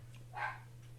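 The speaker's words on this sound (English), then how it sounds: "if you hear the dogs in the background, they're going nuts" Dogs outdoors during a snow squall with fierce winds give a single short, faint bark over a steady low hum.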